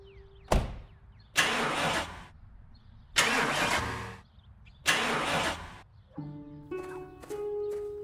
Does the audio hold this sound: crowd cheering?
no